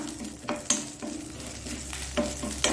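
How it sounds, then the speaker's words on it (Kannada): Curry leaves frying in oil in a pan: a continuous close sizzle broken by several stirring scrapes at a regular pace, with no talking heard. "ಕರಿಬೇವನ್ನು ಸಹ ಹಾಕ್ಕೊಳ್ತಿದ್ದೇನೆ. ಕರಿಪತ್ತ ಇದರಲ್ಲೇ ಸ್ವಲ್ಪ ಒಳ್ಳೆ ನೋಡಿ, ಇದು ಒಳ್ಳೆ ಫ್ರೈ ಆಗಬೇಕು."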